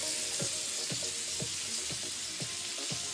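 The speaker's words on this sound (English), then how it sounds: "The venison is starting to cook on one side." Venison loins sear in a hot pan of bacon fat, giving a steady close sizzle and hiss throughout with a few soft repeated clinks or scrapes.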